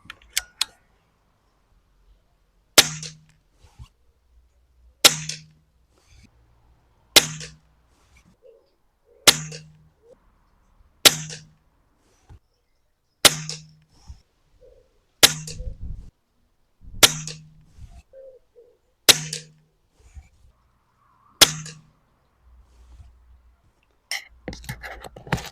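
Air rifle shooting Arms Field 8.4 grain 4.52 head diabolo pellets, about ten sharp, loud shots spaced a few seconds apart, each a crisp crack with a short ringing tail, with no talking between them.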